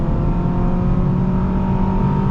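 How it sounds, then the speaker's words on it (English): A 2002 Honda Accord SE accelerating hard to 60 mph on a hot day, with a loud, steady engine drone and road hum heard from inside the cabin. "see how quick this Accord is to 60"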